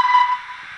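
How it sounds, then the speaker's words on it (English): A steam-style whistle from the sound decoder of a Bachmann A1 model locomotive sounds a short, bright tone of under a second, starting loud and quickly softening into a faint hiss. "I've got a whistle"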